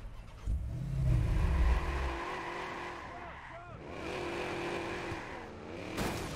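A car engine in the video game Watch Dogs revs and roars loudly, swells, then eases off as the car moves, with someone talking over part of it.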